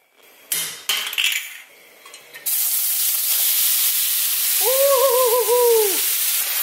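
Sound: frozen pierogies frying in oil in a pan

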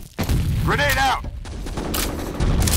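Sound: grenade explosion and gunfire in a video game

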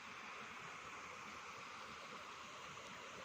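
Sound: stream water flowing

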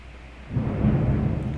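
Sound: rain and thunder

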